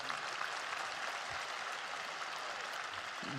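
An audience at an honorary doctorate ceremony applauds with faint, continuous, distant-sounding clapping.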